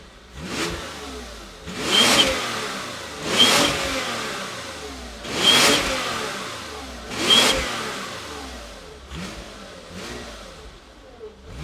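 A VW Phaeton W12 engine revs hard over and over with no rev limiter, giving five strong surging blips at a steady rhythm and then fainter throttle pulls near the end, with the motor idling between them.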